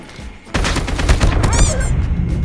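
AK-47 fire in Call of Duty Mobile, a loud, close run of rapid automatic shots in a steady rhythm that starts suddenly and continues without pause, with game effects layered in.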